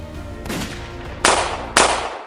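Two sharp gunshots crack about half a second apart over a steady background rumble, each leaving a short decaying tail.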